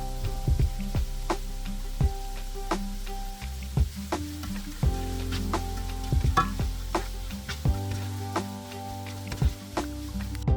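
Onions sautéing in hot oil in a pan for Kerala-style beef fry, a steady close sizzle broken by repeated sharp clinks and scrapes of a spoon stirring against the pan.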